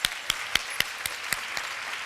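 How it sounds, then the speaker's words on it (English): Scattered applause for sponsors at a charity luncheon, a few sharp distinct claps spaced about a quarter second apart over a soft room bed, fairly faint and brief. "please help me thank them with your applause"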